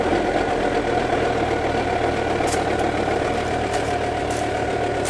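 A car engine idles steadily after a cold start, a loud, close, continuous rumble with a slight knocking texture and faint ticks above it, no voices.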